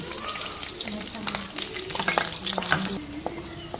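Chopped green chilies dropped into hot oil for a vegetable pulao, giving a steady close sizzle with scraping stir sounds and faint background talk.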